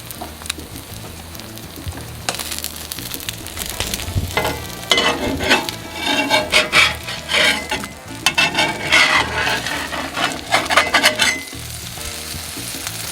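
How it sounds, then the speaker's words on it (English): Quesabirria tacos pressed down and frying on a hot greasy griddle make a loud, close sizzle that swells and crackles in bursts through the middle, with stirring and scraping noises and no talking. "Smash it down a little bit, and you just kind of let it cook for about 2 to 3 minutes on each side"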